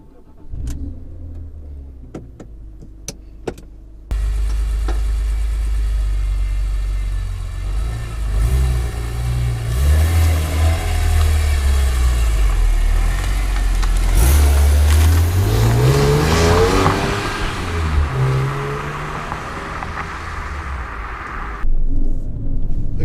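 A 2003 BMW E46 M3 CSL engine starts, then drones and revs through gear changes on a road drive, loud and close with rising and falling pitch.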